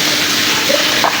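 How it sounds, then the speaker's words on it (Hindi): Heavy monsoon rain water pours down from above like a waterfall, a steady, loud, close rushing splash with no pauses. "देखिए ये ऊपर से झरना ऐसे गिर रहा है पानी"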